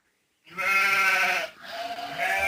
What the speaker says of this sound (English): The sheep are out. Look out, the sheep are out.